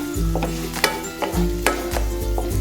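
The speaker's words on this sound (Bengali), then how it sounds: "মেটটা দিয়ে এতে ভালো করে নাড়তে হবে।" A sweet sandesh mixture with condensed milk gets stirred in a pan, giving soft sizzling under a few distinct scraping strokes of the spoon in steady succession, close and unaccompanied.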